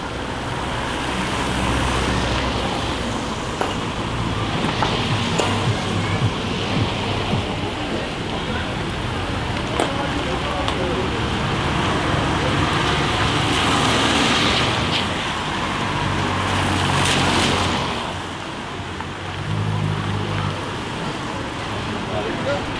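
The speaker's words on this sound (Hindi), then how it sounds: "चलें ड्राइव करके ज़रा निकलें।" A car drives through traffic in Fethiye on a rainy day. A steady low engine and road rumble runs under the hiss of rain and passing vehicles for the whole stretch.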